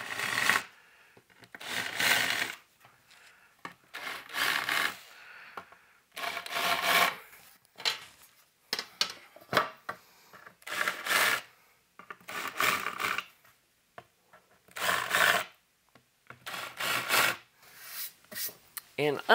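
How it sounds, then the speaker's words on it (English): Hand beveling of freshly drilled holes in an aluminum chassis for a 1930s Globe tube amp, heard as short scraping rasps in bursts of one to two seconds with brief pauses, close and fairly quiet. "I'm going to come back and bevel these off again since we went with a little bigger hole."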